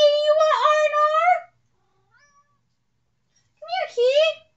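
A cat gives two loud, drawn-out meows close to the microphone, separated by a quiet gap with a faint chirp, the second call rising and wavering.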